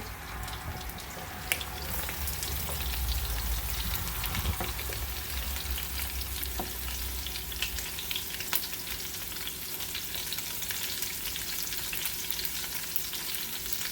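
Onions and green onions frying in a pan with deer meat and a little grease, a steady close sizzle and crackle that runs on evenly with no talk.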